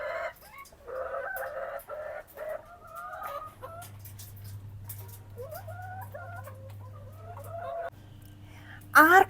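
Laying hens cluck in a poultry shed as they feed and drink, with a steady run of close, overlapping clucks and calls and a low continuous hum beneath, ending in a loud squawk.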